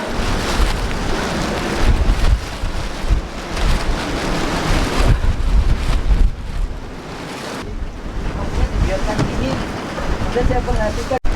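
Strong gusty wind on Mount Bismo, roaring loudly and buffeting the microphone in a steady, rough rush that swells and dips through the whole stretch, with no clear speech over it.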